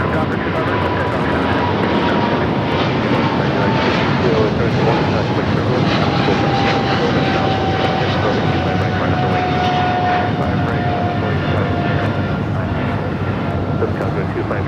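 Airliner taking off from runway 25 right at Los Angeles International Airport, a loud continuous broadband engine roar that holds steady throughout, with a faint rising whine, heard from a spotting position near the runway.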